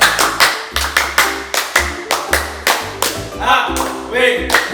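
An audience claps together in a rhythmic cheer, repeated sharp group claps in a steady beat, close and loud, with voices chanting along between the claps.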